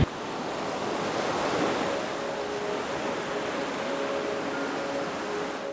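Ocean waves wash onto a small beach in Sri Lanka, a steady broadband surf roar mixed with wind buffeting the microphone, continuous and without voices.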